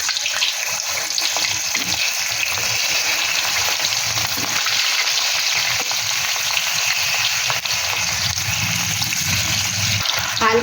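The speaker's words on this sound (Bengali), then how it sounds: "হালকা আঁচে এগুলোকে লাল লাল করে ভেজে নেব, হালকা লাল করে ভেজে নেব।" Sliced potatoes frying in white oil in a kadai over a low gas flame, a steady, close, unbroken sizzle that lasts throughout with no talking.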